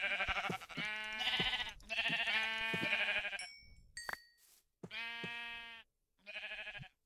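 Sheep in the video game Minecraft bleat in a run of clear, repeated calls, with a short chime-like tone in a brief gap partway through.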